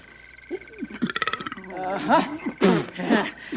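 A man imitating a toad makes a croaking sound with a rapid rattling burst, then speaks in a gravelly, croaky tone.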